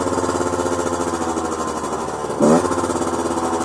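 A Derbi GPR 50cc moped with a Conti exhaust runs at high revs with a buzzing, rasping two-stroke drone, steady and loud throughout, with a brief surge around the middle before settling back.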